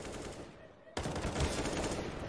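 Gunfire in Counter-Strike during a StarLadder Major 2019 qualifier match on the Nuke map: a burst of rapid shots cuts in sharply about a second in and keeps going loud, dense and steady, with little talk.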